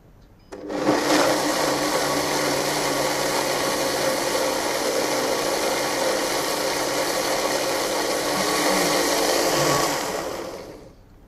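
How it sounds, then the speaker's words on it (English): A blender whirs steadily for about ten seconds, blending a spiced Bloody Mary cocktail with horseradish. It starts abruptly, holds a loud, dense motor roar with a faint rattle throughout, then stops. No one speaks. "So into the blender again."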